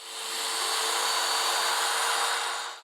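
A Festool Domino joiner plunging into wood stock to cut mortises, a steady, close, high-pitched whining cut lasting a few seconds before stopping abruptly.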